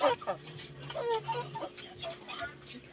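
Chickens cluck and murmur nearby in short, irregular bursts while a person talks quietly.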